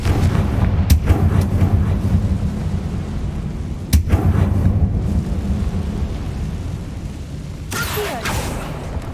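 Confringo fire-blast spells in Hogwarts Legacy land as three sharp booms near 1 s, 4 s and 8 s over a continuous rumbling, crackling battle ambience, loud and close.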